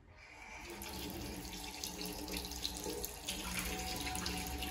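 Tap water running steadily into a sink while a child brushes teeth, a close, continuous splashing rush that holds for several seconds.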